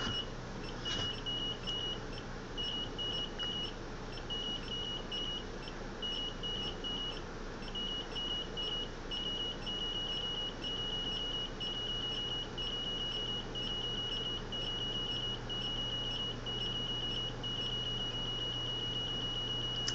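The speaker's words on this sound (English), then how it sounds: "If I turn the timer off and press the emitter button, now it'll open the wormhole automatically at 0." A replica Sliders timer emits a steady train of short, high electronic beeps, repeating evenly as it counts down to open the wormhole automatically, heard close over a constant low hum with no talk.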